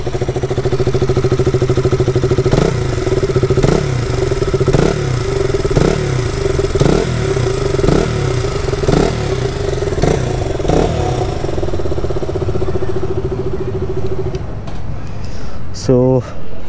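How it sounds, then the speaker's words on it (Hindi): A BS4 KTM RC motorcycle idles with a steady, throbbing exhaust note, punctuated by roughly regular blips of revving that repeat about once a second before the engine settles and cuts off near the end, with no speech. "अभी बाहर अपनी BS4 RC रखी हुई है, सो अभी इसकी एग्जॉस्ट नोट सुनो आप"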